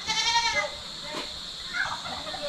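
A young goat kid on a farm gives a drawn-out, wavering bleat, close and fairly loud, over a steady background hum, with a fainter second call toward the end.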